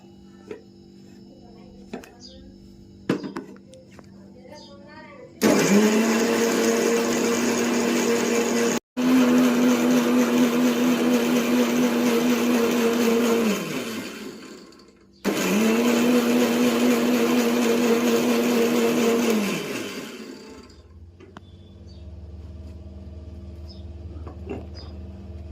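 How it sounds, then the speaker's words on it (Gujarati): A kitchen mixer grinder grinds fresh mint, coriander and green chili for pani puri masala in loud, steady bursts, three whirring runs separated by short stops, with faint room sounds before and after. "ઘરનો ફોદીનો, કોથમી અને મરચું તૈયાર કર્યું છે. પીચવાનું છે મિક્સરમાં."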